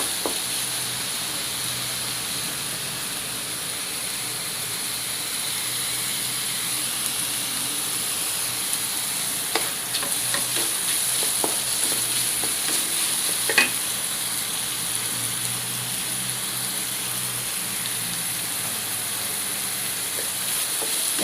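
Sliced hotdog frying in oil in a pan for breakfast spaghetti, stirred with a utensil: a steady, even sizzle throughout, with occasional soft scrapes and clicks and no talking.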